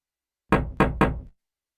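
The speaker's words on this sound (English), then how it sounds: "there is no answer to your knocking" Three firm knocks on a house door in the 1993 Sierra PC game Police Quest IV, evenly spaced and loud, with a hollow, resonant thud and no voices.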